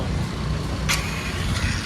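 A car on a rough road passes close by, its engine and tyre noise loud and steady for the short stretch with a brief sharper hiss midway; no voices.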